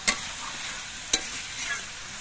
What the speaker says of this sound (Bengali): চিনিটা দিয়ে নেড়ে চেড়ে মিশিয়ে দিতে হবে